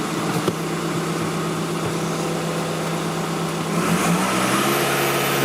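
An Audi A3 with an intake flap fault runs at about 1000 rpm, a steady close low engine drone that swells slightly toward the end.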